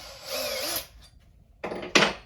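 A Milwaukee power drill bores a hole in wood at close range: a rising motor whine that spins down, then short rough grinding bursts as the bit bites into the wood.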